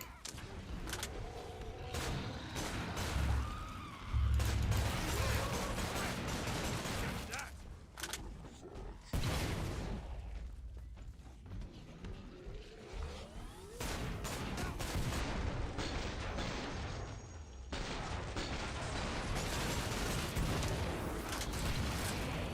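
Shotgun blasts in Killing Floor 2 boom out in a steady series over dense game noise and mechanical clatter, with loud bursts near the start and scattered shots throughout.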